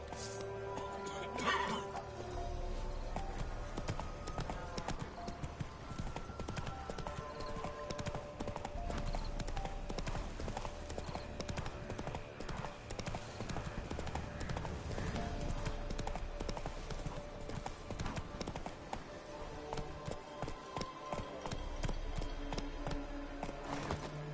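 A horse gallops in The Witcher 3 video game: continuous rhythmic clip-clop of hooves over a long stretch, steady and fairly close, mixed with game music and ambient sound, with a brief neigh near the start.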